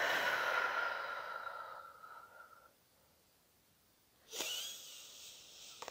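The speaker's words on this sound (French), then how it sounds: "Respirez. Soufflez fortement." Forceful exhaling during a breathing exercise in an energy session: one long, strong breath out fades away, and after a short quiet pause a second sharp exhale follows nearby.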